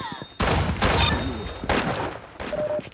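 Gunfire rattles in the video game Arsenal, with several loud sharp bursts of shots in quick succession and brief pauses between them.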